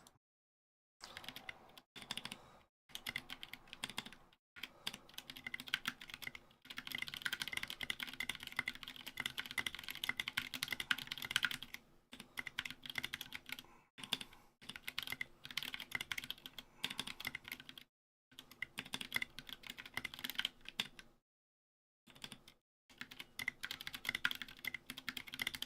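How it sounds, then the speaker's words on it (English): Rapid clacking of a Ducky One 2 Mini hot-swap mechanical keyboard with SA keycaps being typed on in bursts, with brief pauses between runs of keystrokes, close up. "we'll see how fast I can type at in general"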